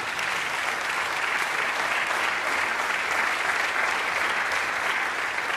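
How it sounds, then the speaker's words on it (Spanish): Steady, dense applause from a church congregation, loud and sustained throughout without pause. "Dale un aplauso Señor."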